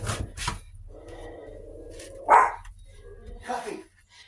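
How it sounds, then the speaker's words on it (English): Dogs bark a few times at a distance in a kitchen, short sharp yelps spread out over several seconds, mixed with soft clatter and a person talking nearby. "I have no idea what they're barking about."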